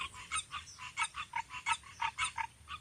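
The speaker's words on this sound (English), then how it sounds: "tree frogs." Tree frogs up in the trees croak in a dense, rhythmic chorus of rapid pulsing calls, steady and fairly loud, with no voices over them.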